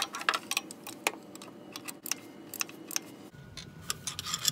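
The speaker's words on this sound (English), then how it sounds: "this is going to allow me to put the ratchet on there and get it out" A ratchet fitted with a 12 mm socket backs a bolt off a Honda Element engine, giving a quick series of light, dry clicks and ticks with short pauses between bursts, close and fairly quiet.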